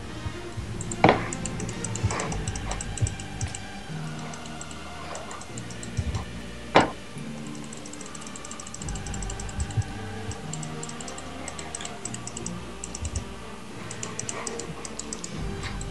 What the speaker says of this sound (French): Vous entendez les clics de ma souris